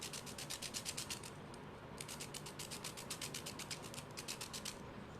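A pencil tip is rubbed back and forth on sandpaper, making quiet, rhythmic scratchy strokes close by, with a short pause partway through.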